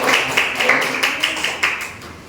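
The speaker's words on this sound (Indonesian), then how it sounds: "Beri tepuk tangan" Clapping in a classroom, a handful of students giving a few uneven, close claps with distinct individual hits, alongside some background voices.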